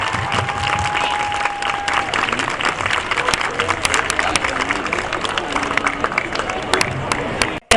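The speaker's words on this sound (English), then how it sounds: "please give us a massive round of applause for a young Dracula cast" Crowd at a Manchester expo applauding the young Dracula cast, a loud, continuous stretch of clapping with cheering and crowd babble mixed in, holding steady until it cuts off at the end.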